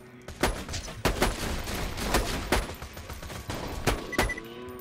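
Sniper rifle fire in the Borderlands video game, with about eight sharp, loud shots spaced roughly half a second to a second apart over a steady background of game noise.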